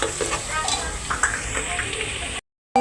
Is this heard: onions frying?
yes